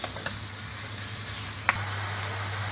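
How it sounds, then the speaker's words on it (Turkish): Minced meat and onions frying together in oil in a pan for stuffed capia peppers, a steady close sizzle with a few small pops and one sharp click near the end. "soğanımızla beraber kıymamızı da kavuruyoruz"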